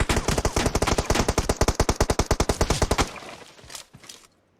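Gunfire in the PUBG Mobile video game rattles out as a fast, loud burst of automatic shots for about three seconds, followed by a few scattered fainter sounds before silence.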